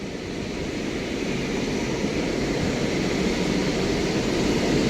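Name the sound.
airplane landing at Mumbai international airport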